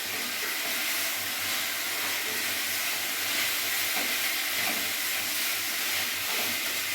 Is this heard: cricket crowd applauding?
no